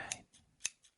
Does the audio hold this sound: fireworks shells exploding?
no